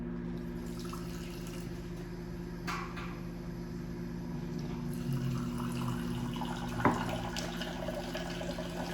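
A quarter cup of water is poured and measured for a Thanksgiving pumpkin and applesauce recipe in a kitchen, a soft steady trickle under a constant appliance hum, with a brief clink near the end.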